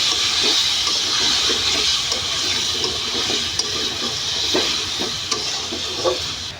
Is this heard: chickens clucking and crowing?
no